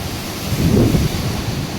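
Sea surf at Mandarmani beach rolls in as a steady broadband wash, swelling to a louder surge in the middle and easing off again, with wind noise on the microphone and no talking.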